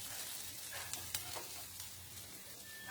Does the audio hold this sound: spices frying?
yes